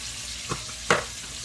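Shrimp, onions and peppers frying in a pot with a steady sizzle, broken by two brief stirring scrapes, the second one louder.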